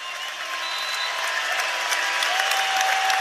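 Wrestling crowd at an Iowa vs Oklahoma State dual meet cheering and applauding steadily after a long ride, a dense, sustained wash of clapping and cheers filling the arena with no talk over it.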